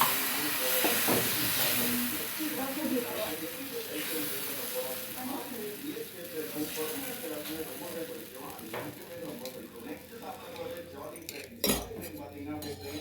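Dosa batter hisses and sizzles steadily on a hot griddle while cutlery and a metal ladle clink and scrape now and then, with a louder clatter near the end and a voice speaking over it.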